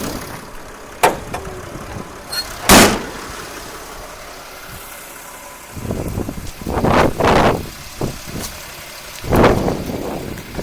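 A Mercedes Sprinter van setting off on a test drive, engine running steadily with low rumble, interrupted by a few loud knocks and clunks and bursts of wind and road noise as it moves off.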